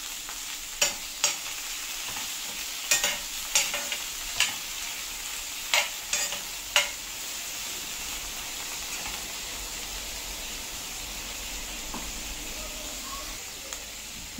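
Dried red chillies and chopped tomato fry in a pan with a steady soft sizzle, while a spoon scrapes and clatters against the metal in a run of sharp taps before the frying settles on its own.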